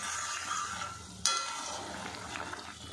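Lentil fritters (bora) simmer in a ridge gourd curry, giving a steady low bubbling and hiss, with one sharp clink of a utensil partway through and no voices.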